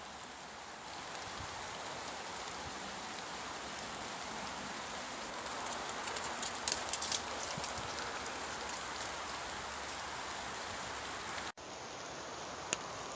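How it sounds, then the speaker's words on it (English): Steady outdoor rain falls during a wet autumn wild camp, a soft continuous hiss of drops with a brief break near the end, no voices. "I love that rain mist"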